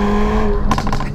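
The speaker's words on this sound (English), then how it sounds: "It just pops and bangs like a rally car" Hyundai i30N hot hatch engine running loud and close, its exhaust crackling with a quick burst of popping bangs on the overrun.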